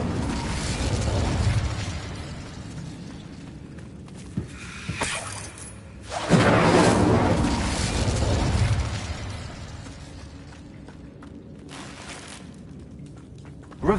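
Incendio fire spell cast in the Hogwarts Legacy video game, a roaring burst of flame and crackling blasts that swell loudly, fade, then surge again into a sustained rumble with scattered pops.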